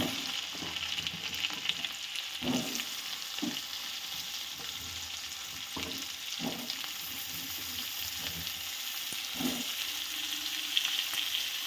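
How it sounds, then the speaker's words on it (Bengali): Cut potatoes frying in hot oil left over from shrimp, a steady close sizzle with periodic stirring scrapes and soft knocks, no talking. "এবার আমি এই তেলের মধ্যেই কেটে রাখা আলুগুলো ভেজে নেব"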